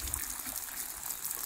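Cold stream water rushes and splashes steadily nearby, a continuous gushing flow with no voices over it.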